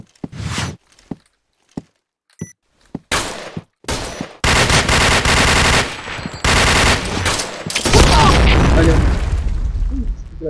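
Video game combat with a grenade going off among bursts of gunfire, sharp separate shots early on giving way to longer loud blasts and a heavy booming explosion near the end, with voices talking over it.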